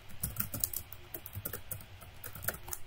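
Quiet typing on a computer keyboard while building a MATLAB app, irregular clusters of close, crisp key clicks with brief pauses between runs.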